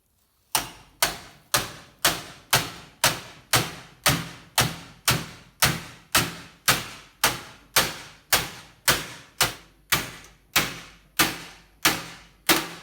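Steady, evenly spaced hammer blows ring on metal angle iron being bent, about two strikes per second, each a sharp clanging impact with a short decay, no voices.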